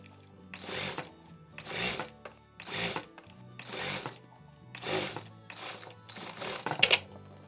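A sewing machine stitches a hoodie sleeve seam in short bursts, about seven separate runs of rapid mechanical whirring, each lasting under a second with brief pauses between, heard up close and alone.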